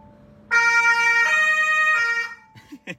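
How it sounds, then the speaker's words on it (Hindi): A loud vehicle siren blares up close for about two seconds, its tone stepping between pitches before cutting off, followed by a few short clicks. "ये लो सायरन बजा के दिखा देते हैं"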